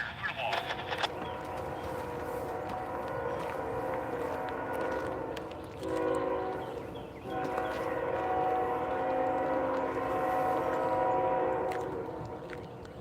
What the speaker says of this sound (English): Here comes our stinky train.